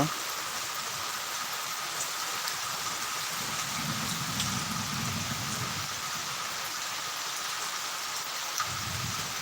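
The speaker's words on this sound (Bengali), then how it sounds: "প্রচুর বৃষ্টি হচ্ছে" Heavy rain falls around a building under construction, a loud continuous wash of drops with a low rumble swelling midway and again near the end, and no one speaking.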